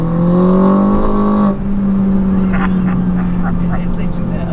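A modified R56 Mini with a retuned automatic gearbox pulls hard on throttle, its engine giving a loud, steady droning note that eases slightly partway through and then holds under the continuing drive.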